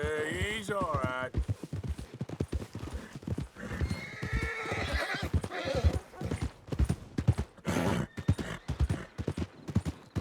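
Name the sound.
horse trotting and neighing in Red Dead Redemption 2 video game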